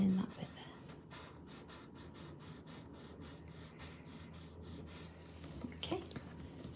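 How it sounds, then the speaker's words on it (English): A pencil drawing on a small paper Zentangle tile is rubbed out with an eraser in a quick series of soft, rhythmic scrubbing strokes, close and quiet. "Just going to rub that bit out there."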